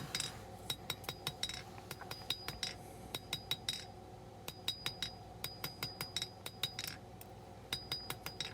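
Steel knife blade being hammered on an anvil to knock out hammer marks during hand forging, a steady run of sharp, ringing metallic strikes repeating at an even rhythm, close and clear with no talking.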